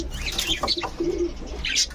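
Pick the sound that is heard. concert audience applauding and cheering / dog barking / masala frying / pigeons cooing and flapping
pigeons cooing and flapping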